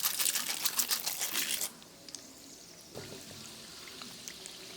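Mustard seeds and chana dal drop into hot oil for potato bonda, giving a loud bright sizzle and spattering crackle that stops abruptly, leaving a low hiss with faint scattered pops.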